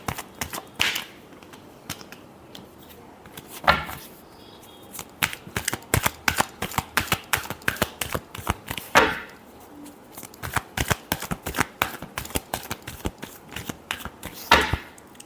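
Tarot cards being shuffled by hand: a long run of crisp, rapid riffling snaps in quick irregular bursts, close and fairly loud, with a few heavier thumps between them and no talk.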